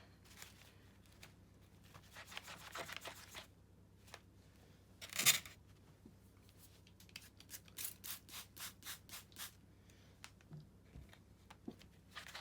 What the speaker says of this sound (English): I'll just clean off this stamp